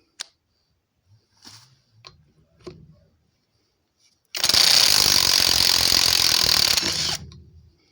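A REVOLT TW 20/350 cordless impact wrench with a 19 mm socket on a half-inch drive runs on a trailer wheel nut in one loud sustained burst of about three seconds, preceded by a few small clicks and handling knocks.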